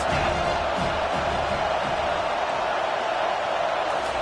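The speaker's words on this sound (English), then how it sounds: "Third down as the crowd gets behind this defense." A stadium crowd at a Miami vs Georgia college football game roars in a dense, unbroken wall of cheering on a third down, loud and steady throughout.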